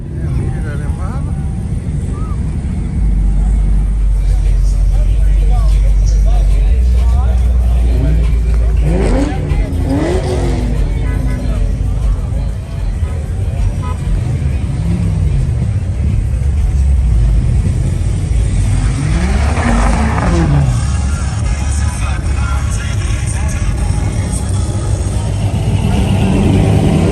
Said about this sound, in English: you hear that Impala?